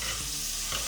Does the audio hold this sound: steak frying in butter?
yes